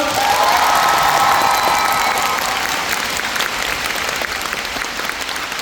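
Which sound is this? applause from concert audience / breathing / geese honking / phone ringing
applause from concert audience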